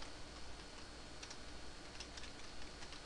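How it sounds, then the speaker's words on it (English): Computer keyboard keys tap faintly in short irregular bursts beneath a steady hiss, with no talking. "Typing this out."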